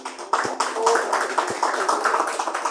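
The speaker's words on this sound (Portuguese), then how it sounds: "palmas para Jesus" Congregation clapping during a church service, uneven bursts of claps under raised voices, with a few louder thumps among them.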